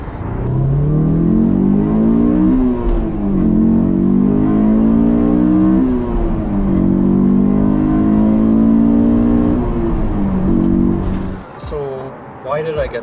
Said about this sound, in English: once you get to 6000, that's once you hit that sweet VTEC